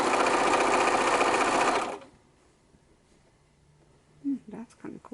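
Sewing machine stitching decorative zigzag stitches on fabric, a rapid close mechanical chatter for about two seconds before stopping, followed by near-quiet and a few soft handling sounds.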